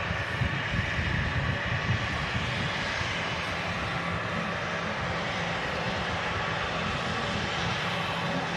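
Sun Express airliner departing Manchester Airport for Antalya, Turkey, its engines a steady, loud, broadband roar that holds constant for the whole stretch with no speech over it.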